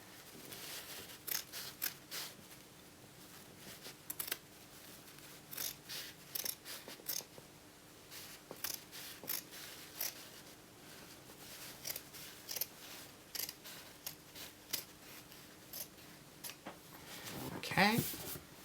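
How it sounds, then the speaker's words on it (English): Fabric scissors snip along the stay stitching of a sewn dress, giving a long series of short, crisp, close cuts in irregular bursts under quiet spoken commentary, ending in a louder rustle. "I just cut right outside that stay stitching"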